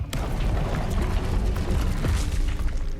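A Confringo blasting spell explodes in Hogwarts Legacy, a dense, loud rumbling boom with crackling bursts that keeps sustained energy across the whole three seconds without pause.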